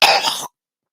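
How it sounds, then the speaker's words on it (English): One short, loud, raspy cough close to the microphone, followed by silence. "Got a bit of a cough."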